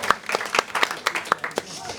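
Scattered, sparse claps from an audience at a French comedy show, a handful of sharp hand claps spread across two seconds with faint voices underneath.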